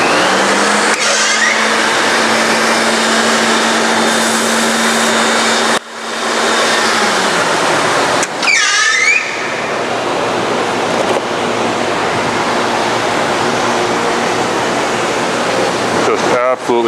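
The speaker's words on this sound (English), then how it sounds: "cut through a more significant thickness of material" Model 204 cutting machine slicing through a stack of mineral foam, a loud continuous broadband roar with a brief dip midway, then a rising squeal before the heavy rushing cut resumes to the end.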